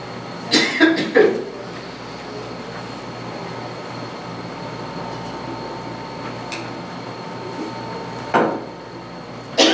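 During a planning board meeting in a quiet room, a person coughs in a short cluster near the start, with a few more coughs later over a low steady room hum.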